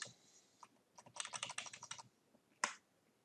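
Keys on a computer keyboard are pressed nearby: a few separate taps, then a quick burst of rapid clicks for copy, paste, Shift and arrow presses, ending in one firm, louder keystroke, with no talking.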